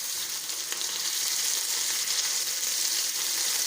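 Paste of onion, ginger, garlic and green chili frying in a pan for Punjabi murgh chana, giving a steady, dense sizzle with a soft crackle. It runs unbroken at an even loudness throughout, with no voices.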